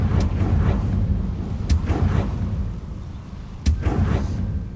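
A Confringo blasting spell in the Hogwarts Legacy video game sets off sharp broadband bursts, three distinct blasts spread over a few seconds above a steady low rumbling game ambience.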